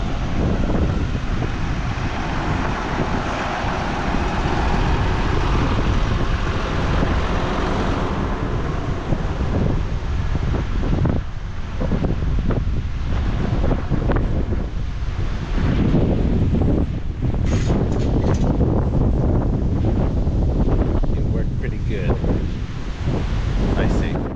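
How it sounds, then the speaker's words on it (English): Strong gusting wind roars steadily into the microphone outdoors, a loud, continuous rumbling buffet that swells and dips throughout without pause. "Holy balls, the wind."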